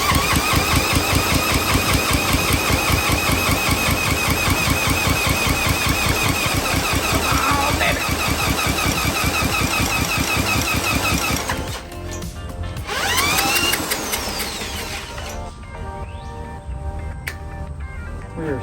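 A small engine fires and runs hard at full throttle, a loud steady rattling drone that stops abruptly partway through, followed by a brief surge and quieter mechanical noise, with a person talking over it.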